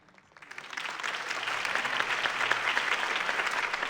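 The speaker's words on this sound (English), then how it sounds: "could have heard that applause" A crowd applauds after a mayoral campaign speech for Harvey Dent, the clapping swelling within the first half second into steady, dense applause that holds at full strength, with no speech over it.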